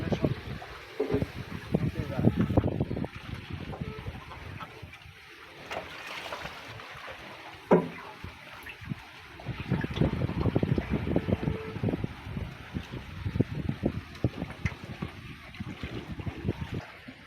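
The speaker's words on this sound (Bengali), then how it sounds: "নৌকা ভ্রমণ হচ্ছে ঘোড়া মানার বিলে" A boat moves across the clear water of Ghora Mara beel, a lake. Wind buffets the microphone and there are low water and hull sounds, with intermittent voices talking over them.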